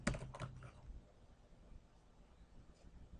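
A computer keyboard gives a short burst of soft, quick typing keystrokes at the start, then fades into faint room quiet.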